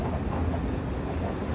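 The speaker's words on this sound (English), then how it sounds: "So guys, this is the tram now," A number 10 tram rolls past close by, a dense low rumble with rattling wheels, steady and loud for the whole short stretch.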